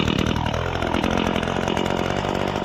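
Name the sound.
petrol grass-cutting machine engine running after choke start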